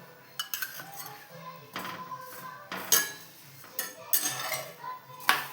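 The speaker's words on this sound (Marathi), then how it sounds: "याला आता आपण तूप लावतोय पुन्हा एकदा" A spoon spreads ghee over food cooking in a pan, giving soft scraping strokes punctuated by several sharp metallic clinks of the spoon against the pan, close and intermittent with a faint background hum.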